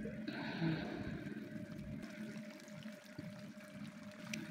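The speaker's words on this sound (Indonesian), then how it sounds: "Kita goreng bolak-balik." Tahu brontak, stuffed tofu coated in flour batter, fries in hot oil with a soft, steady sizzle and bubbling, faint and continuous without talk.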